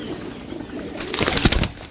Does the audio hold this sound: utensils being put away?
no